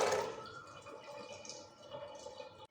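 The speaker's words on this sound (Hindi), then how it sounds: "ये मैंने धो लिए हैं सारे चने और अब इनको हम डाल देते हैं कुकर में।" Washed chickpeas and water tipped into a pressure cooker, a short soft splash and trickle that fades quickly, close and quiet, with no talking.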